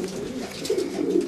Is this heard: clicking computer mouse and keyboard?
no